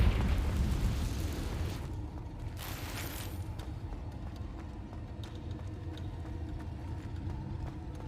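Confringo fire spell explosion in the game Hogwarts Legacy: a loud fiery burst at the start that settles into a rumbling, crackling blaze with a brief flare a few seconds in, sustained and close.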